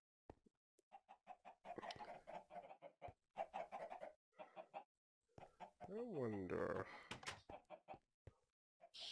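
Chicken clucking in a Minecraft FTB modpack game, short repeated clucks scattered through the moment, mixed with a person talking and game noises.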